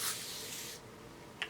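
A short hissing burst from an aerosol face mist of water and nitrogen, close and soft, fading after under a second, followed by a couple of faint clicks.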